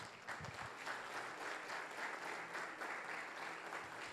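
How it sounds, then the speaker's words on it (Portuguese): A church congregation claps together in a steady, sustained round of applause that fills the room evenly from start to finish, with no voices rising above it. "Aplauda Jesus."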